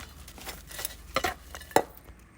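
Pieces of coconut husk being stirred and mixed in a pot, giving a few scraping, clattering strokes at irregular intervals, close and fairly quiet.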